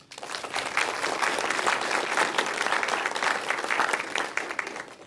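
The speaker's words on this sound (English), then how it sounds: "they deserve a round of applause from all of us" Steady applause from a large audience at a genomics forum, sustained and even for the full stretch with no talking over it.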